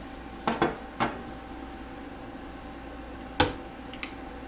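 An aloo paratha sizzles softly in an oiled pan, a low steady frying hiss broken by a few sharp utensil knocks and clatters.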